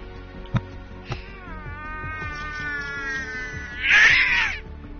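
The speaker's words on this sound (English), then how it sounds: "Sounded like a cat." A cat gives a rising, drawn-out meow near the end, loud and close, after a couple of short knocks and over a steady background hum.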